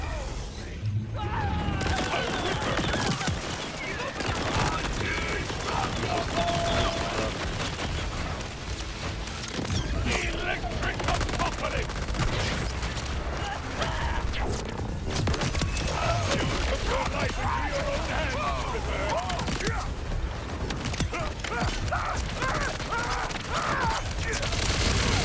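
Dense, continuous turret gunfire in a video game boss fight, a steady roar of rapid shots and booms that runs throughout with no break.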